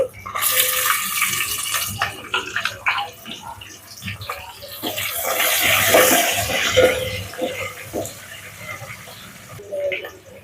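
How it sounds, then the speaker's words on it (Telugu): Garlic cloves, sliced onions and green chillies fry in a pan, producing a loud, continuous sizzle and crackle that swells and fades, with a voice talking over it. "వెల్లుల్లి రెబ్బలు సన్నగా కట్ చేసిన ఉల్లిపాయలు పచ్చిమిర్చి కూడా వేసుకొని దోరగా ఫ్రై చేసుకోవాలి"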